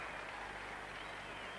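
Cricket fans applaud during a 1980 England v West Indies Test match, a steady wash of distant crowd clapping for a bowler's hat-trick effort, continuous and faint, with no talk over it.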